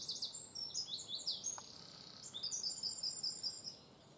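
Small birds chirp at a feeder, quick high tweets in short bursts over about four seconds, fairly faint against a quiet outdoor background with no talking.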